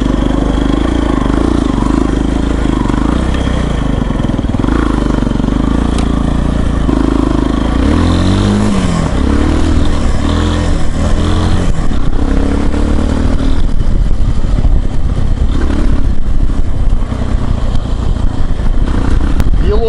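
Moped engine running while being ridden, a loud continuous buzzing drone with shifting pitch as it revs and accelerates, with rattling clatter and rough noise throughout.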